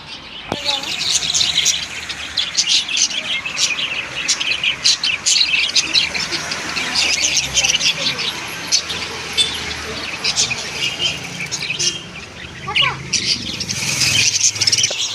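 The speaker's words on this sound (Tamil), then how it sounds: "இது வந்து இங்கே வந்து பறவைலாம் இருக்குது." Lovebirds chirp inside an aquarium shop in a dense, continuous high twittering and squawking, close by, with faint voices now and then in the background.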